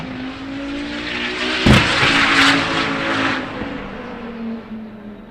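A 1,200-plus horsepower twin-turbo race car at a time attack event roars past with a sharp pop partway through, its engine note holding loud before easing away.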